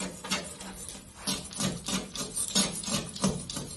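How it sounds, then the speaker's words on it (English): A scraper rasps old, crusty decals off the body of a 1983 Ford Ranger pickup, repeated rhythmic scraping strokes at close range, fairly loud, with no talk. "And now I'm gonna scrape a couple of these decals off."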